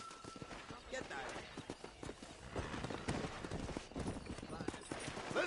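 Horse hooves clip-clop at a gallop in the Western video game Red Dead Redemption, a quick steady beat running beneath someone talking and calling out to the horse.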